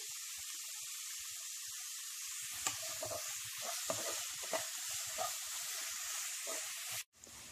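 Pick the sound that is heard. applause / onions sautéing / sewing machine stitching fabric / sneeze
onions sautéing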